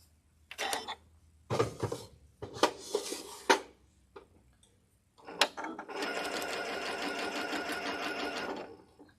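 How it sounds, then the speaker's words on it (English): A sewing machine stitches fabric from corner to corner. Several short whirring bursts come first, then one steady run of a few seconds, close and clear with no talk. "You're going to line up these corners just like that and sew corner to corner."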